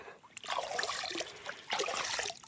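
Hand slapping and splashing in cold water from a village tubewell, producing bursts of close, watery splatter in two main clusters with trickling between them, no talk over it.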